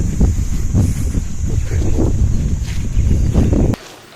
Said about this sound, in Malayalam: തണുത്ത കാറ്റ് വീശ് നിങ്ങൾക്ക് കിട്ടുന്നുണ്ടോ